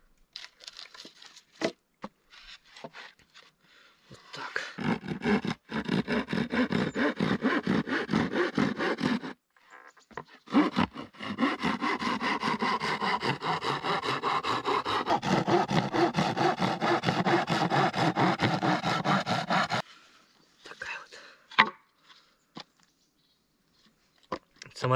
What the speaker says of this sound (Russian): Так, сейчас мы ее отпилим вот так.